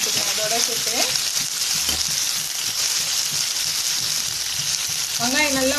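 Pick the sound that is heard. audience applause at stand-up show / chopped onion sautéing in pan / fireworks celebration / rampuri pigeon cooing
chopped onion sautéing in pan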